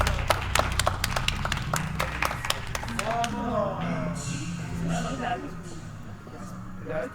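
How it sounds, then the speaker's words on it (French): Studio audience applauding contestants on a French reality show, a steady patter of many hands clapping that starts crisp and thins out into a softer wash, with voices talking underneath. "Sous vos applaudissements, s'il vous plaît."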